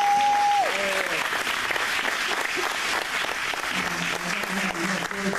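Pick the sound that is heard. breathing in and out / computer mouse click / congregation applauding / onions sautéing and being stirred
congregation applauding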